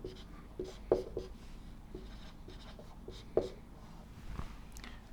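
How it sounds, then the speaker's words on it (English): Chalk or marker tapping and scraping on a lecture-hall board in a physics class, a few short sharp strokes around one and three and a half seconds over steady room hum, with no talking. "I will write it up there."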